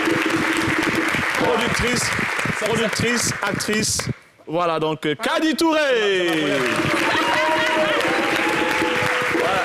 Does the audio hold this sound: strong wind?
no